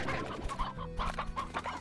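Chickens cluck in the video game Slime Rancher: a short burst of close, repeated clucks and squawks, with no speech.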